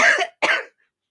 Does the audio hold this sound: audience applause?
no